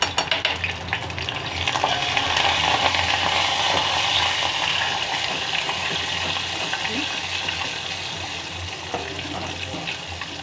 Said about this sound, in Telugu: పచ్చిమిర్చి ఎండుమిర్చి కూడా వేసేస్తున్నాను. జీలకర్ర అన్నీ కూడా వేసేసాను. వేగుతున్నాయి చూడండి.